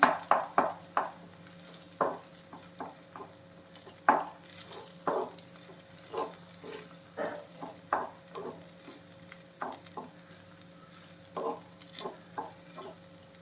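Okra frying on a low flame with a soft sizzle, stirred in a pan with frequent short scraping strokes in an uneven rhythm, close and moderately quiet, with no voices.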